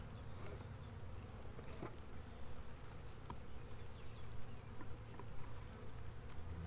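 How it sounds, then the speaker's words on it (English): Honey bees in a swarm trap box buzz continuously as a dense, steady drone up close, on a rainy day, with faint clicks and rustles of frames being handled. "These bees are probably not going to be real happy to see us"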